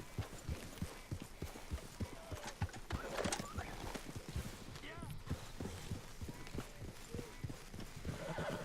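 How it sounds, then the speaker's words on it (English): A horse ridden in Red Dead Redemption 2 clip-clops in a steady rhythm with an occasional whinny and snort. The hoofbeats are close and carry on throughout, with faint talk in the background. "It'd be like a 20-minute horse ride."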